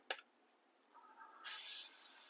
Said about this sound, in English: I'm only going to spray it with the special grilling oil